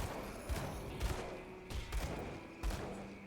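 Dual pistols firing in the action RPG Grim Dawn, a handful of soft, spaced gunshot thumps over a steady droning game background, fairly quiet and without any talking.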